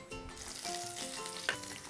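Cumin seeds and freshly cut green chilli sizzle steadily in hot oil in a pan, a dense continuous crackle with a brief louder pop, close and alone without talk.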